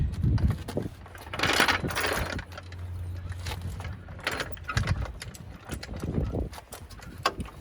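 A car jack raises the lower control arm of a Honda Civic during a coilover installation, giving irregular metallic clicks, ratcheting and clanks at close range, with a brief low mechanical hum partway through.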